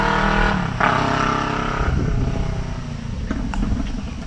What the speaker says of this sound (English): I love that parallel twin sound of the Kawasaki